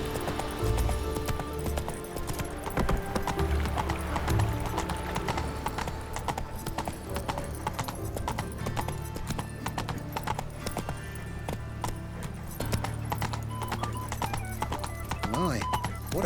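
The horse Roach's hooves clip-clop in a steady rhythm in The Witcher 3 video game, with a neigh and someone talking over the hoofbeats throughout.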